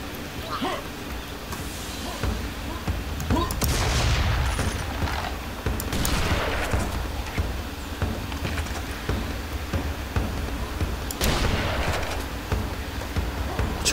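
Heavy cannon booms go off a few times, spaced seconds apart, amid a noisy rumbling soundscape in Serious Sam 2.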